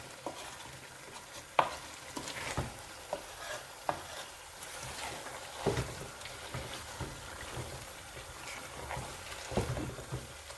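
A spoon stirs a thick haleem mixture in a cooking pot, with irregular scraping and thick squelching strokes that repeat steadily at close range, some sharper knocks against the pot, and no voices.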